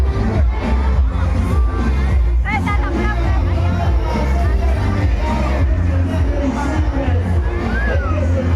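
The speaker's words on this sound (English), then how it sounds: "Lot of crowd here." Large crowd at a Christmas event in Santa Cruz, Bolivia: dense, loud babble of many voices with scattered shouts and whoops, continuous and close throughout.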